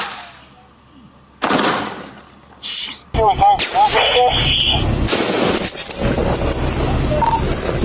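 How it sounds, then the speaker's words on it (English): Gunfire from a handgun during a SWAT standoff, sharp repeated shots mixed with loud broadband bursts and radio-like chatter, with people talking and shouting over much of it. "He's still shooting at us."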